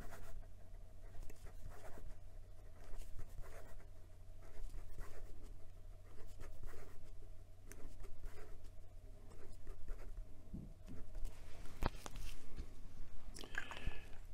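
A Leonardo fountain pen with a Jowo nib writing fast on paper, a continuous scratchy rustle of rapid strokes, close and moderately loud, with a faint steady hum underneath and no talking.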